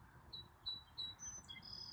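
A rescued barn swallow chirps indoors, giving a string of faint, thin high tweets at irregular intervals over a quiet background hum.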